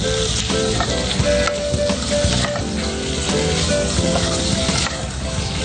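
Cubes of boneless chicken breast, about 250 grams, sizzle loudly in a hot pan while being stirred, a dense, steady frying hiss that runs throughout, with a brief spoken word.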